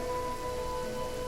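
Rain falls in the video game Genshin Impact as a steady, soft hiss of drops over a low wash, quiet and continuous with no talk.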